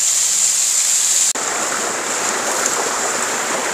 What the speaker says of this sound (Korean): 물이 여리저리 흐른다